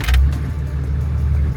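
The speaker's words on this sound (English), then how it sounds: "I'm gonna turn the car on now." An off-road vehicle's engine starts after a gearbox fault and settles into a loud, close, steady low rumble, with a brief jangle at the start.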